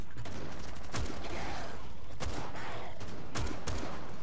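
Shotgun blasts in the Rainbow Six Siege Outbreak zombie mode, four or five sharp, loud booms spaced unevenly across a few seconds over constant game noise, with gasps and sighs between shots.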